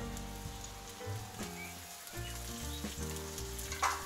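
Carrots and other vegetables sizzle in oil in a cauldron over a campfire, a steady crackling hiss under a low musical background, with no one talking.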